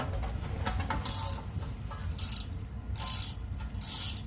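A plastic zip tie is pulled tight during front wheel bearing work on an Acura TSX, giving a rapid ratcheting zip in several short close bursts over a steady background.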